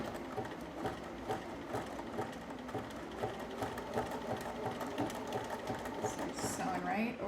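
A sewing machine stitches blouse fabric straight over pins, running in a steady rapid mechanical rhythm at close range while someone talks over it.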